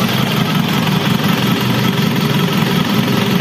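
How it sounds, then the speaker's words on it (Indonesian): An Isuzu Panther diesel engine idles with its turbo spinning, a loud, steady, close rumble with an even throb and a constant high whine above it. "Turbonya muter kenceng, kelihatan nggak tuh yo."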